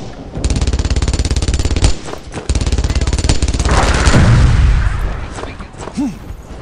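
Automatic gunfire in Brothers in Arms: Earned in Blood: loud, rapid bursts with a short gap, then a heavier boom and rumble as the shooting trails off.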